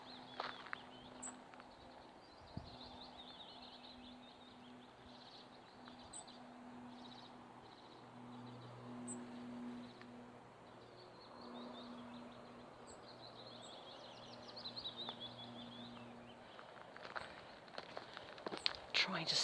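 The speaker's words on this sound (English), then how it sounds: "Trying to see what bird is making what noise is quite tricky here" Birds singing along a countryside hiking trail, faint high chirps and short song phrases scattered throughout over a low steady hum of distant human noise, with occasional footsteps and someone speaking quietly.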